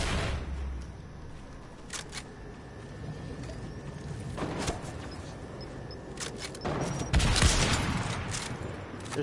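Bombs explode in the Fortnite video game in sharp bursts, with a few scattered blasts early on and a louder cluster of detonations toward the end over a steady background rumble.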